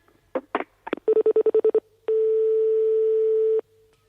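Telephone keypad tones beep as a number is dialed, a quick series of short DTMF blips followed by one long steady tone, clear and close with no talking.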